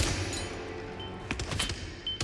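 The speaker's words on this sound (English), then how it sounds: "What is this shooting like peas?" Gunfire in Hitman: World of Assassination comes in a rapid volley of sharp shots, several close cracks clustered near the end over a busy game background.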